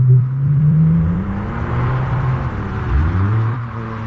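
AI-generated car sound effect: a steady engine rumble with a rising and falling rev tone, loud and continuous throughout, with a second swell of acceleration near the end.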